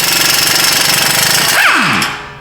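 Impact or power tool loosening a brake caliper bolt in an auto repair shop, a loud continuous rattling hammer lasting about two seconds, then a falling whine as it winds down.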